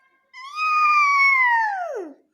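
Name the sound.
cat meowing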